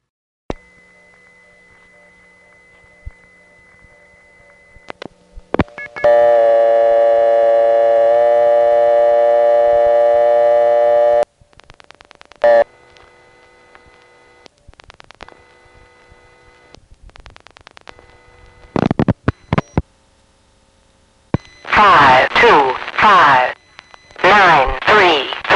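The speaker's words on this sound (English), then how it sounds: "it has tones that are different from the last two and actually from most crossbar 1s" Electronic telephone tones and clicks on a payphone line through a crossbar exchange at Kennedy Airport, including one loud, harsh, sustained buzzing tone, then sharp bursts of sound near the end.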